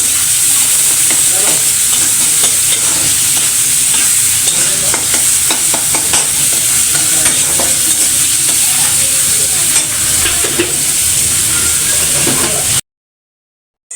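Onions fry with salt in a hot pan for a vegetarian dish of cauliflower, long beans, flat beans and potato, a steady loud sizzle with frequent stirring scrapes that runs unbroken, then cuts to silence near the end.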